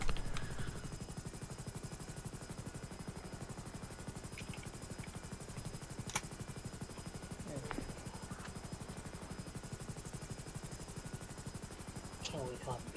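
A police helicopter hovers low overhead in a video game rescue scene. The rotor beats fast, dense and steady throughout with a thin whine on top, and occasional faint clicks and a few scattered distant sounds break through.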